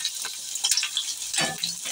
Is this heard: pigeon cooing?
no